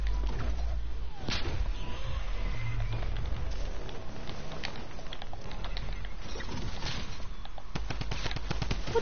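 Rapid gunfire from an enemy's gun in Fortnite rattles in dense bursts, with sharp repeated cracks and clatter filling the whole stretch at a steady, loud level.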